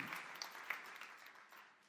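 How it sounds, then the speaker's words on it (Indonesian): A church congregation at an Indonesian service applauds. The clapping is brief and soft, a short patter that fades quickly. "Tepuk tangan yang meriah"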